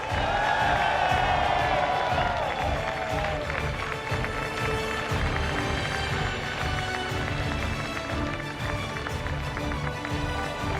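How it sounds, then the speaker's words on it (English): A large esports arena crowd cheers and applauds for the CS:GO champions at IEM San Jose, a loud, sustained roar of voices filling the hall throughout. "you've been an amazing crowd. Let's hear it again for your winners of IEM San Jose's Na'Vi!"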